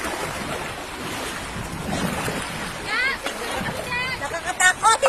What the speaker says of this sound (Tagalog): Hahampas na yung tubig.